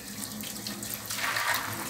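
Soaked beans being rinsed under a running kitchen tap, a steady close splashing gush of water into the sink with no talk.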